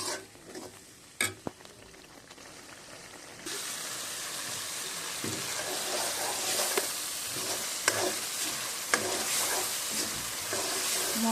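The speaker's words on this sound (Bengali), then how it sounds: "এবং আস্তে আস্তে এটা নাড়তে থাকবো" Chopped onion and garlic cloves fry in a pan, the sizzle jumping louder partway through and then holding steady, with occasional spoon scrapes and taps from stirring up close.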